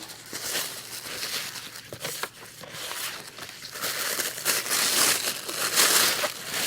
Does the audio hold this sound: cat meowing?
no